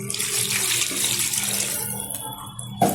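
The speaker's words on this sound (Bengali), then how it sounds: "ভালোভাবে নেড়ে চেড়ে নেওয়ার পর দিয়ে দিচ্ছি পরিমাণ মতো জল।" Water pours into a pan of chili chicken, making a steady splashing rush that fades, then ends in a brief clatter.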